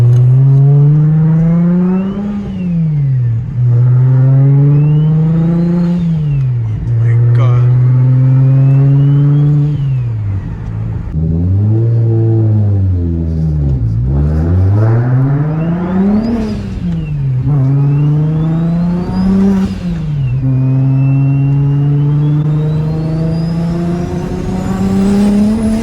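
A car with a BMW N54 engine revs through its exhaust, loud and close: repeated climbs and drops in pitch with a deep, throaty tone and raspy overtones, no voices.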